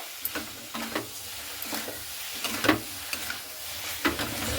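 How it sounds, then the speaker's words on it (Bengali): Soybean chunks and spice masala stir-fry in a covered pan. Spatula strokes scrape at roughly one-second intervals over a low, steady sizzle, close up, with no voices. "খুব সুন্দর করে মশলাটা সয়াবিনের সঙ্গে আর এইভাবে কিন্তু কষিয়ে নিতে হবে"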